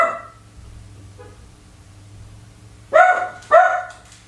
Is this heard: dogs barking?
yes